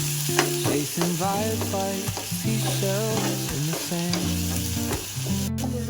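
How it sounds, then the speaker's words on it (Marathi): Coconut pieces sizzle steadily in a pan, a continuous hiss beneath stirring, with melodic background music playing over the frying throughout. "खोबरं आता फ्राय झालेलं आहे."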